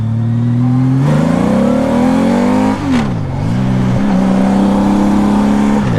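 A 2000 Honda Valkyrie Interstate motorcycle with a six-carburetor engine revs up loud and close. The pitch climbs, dips sharply and then holds steady as it pulls away, with no talking.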